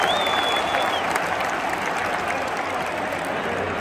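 Stadium crowd at a Champions League match between Real Madrid and Manchester City applauds in a steady, dense wash of clapping and crowd roar that fills the space evenly throughout.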